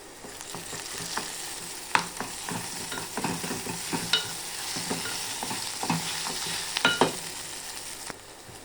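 Bay leaf, cumin, black pepper, cinnamon and cloves frying in oil for a paneer curry, a steady sizzle with frequent light scrapes and taps of a spoon stirring in the pan.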